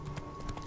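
Hoofbeats of the horse Roach in Witcher 3, a quick run of faint clip-clop steps at a trotting rhythm over low game ambience.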